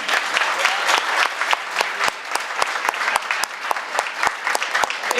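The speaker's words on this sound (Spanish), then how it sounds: "Aplausos para Hugo." Loud, sustained audience applause greets guitarist Hugo de la Mea at a year-end music event, a thick crowd of clapping hands with sharp individual claps standing out throughout.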